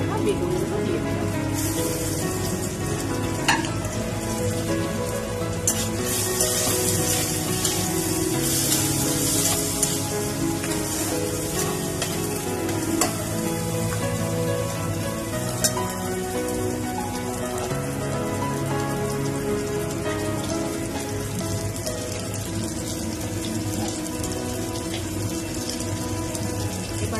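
Eggplant pieces fry with browned onions in a pan, a dense, rain-like crackle and sizzle that carries on steadily with occasional sharper pops, and a voice is present at times.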